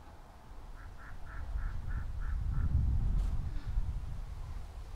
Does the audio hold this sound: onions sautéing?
no